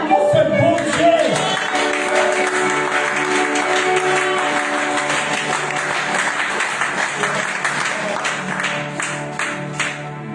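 A church congregation applauding during a worship service: sustained, dense clapping close and loud for about ten seconds, with tonal voices or music running underneath.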